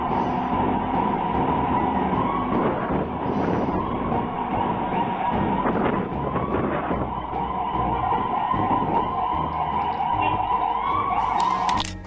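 An ambulance siren wails steadily and loudly in US traffic, its tone running continuously for about twelve seconds over dense street and engine noise, with a brief higher chirp near the end.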